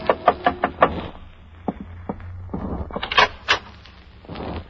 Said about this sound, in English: a knock on the door changed my mind again